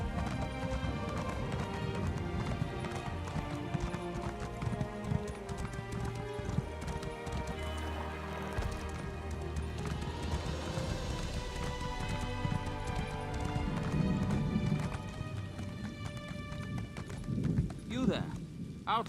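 Horse hooves clip-clop steadily as a horse is ridden in the video game Elder Scrolls Online, a continuous rhythmic trot under a voice talking over it, with a brief whinny-like sound near the end.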